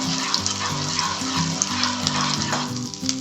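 Half a spoon of Kashmiri red chili sizzling in hot oil while stirred in a pan, a dense steady crackle with light scraping, and a faint melodic tone underneath.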